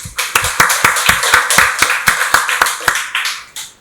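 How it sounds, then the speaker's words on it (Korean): A church congregation claps together in brisk, fairly regular applause for several seconds, then trails off into a few final claps. "박수로 하나님께 영광 돌리겠습니다"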